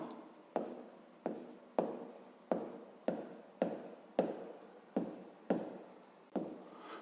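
A hand writes out the difference A minus B for a maths exercise, about ten evenly spaced scratchy strokes that each start sharply and fade. They are quiet, close and steady, with nothing else heard.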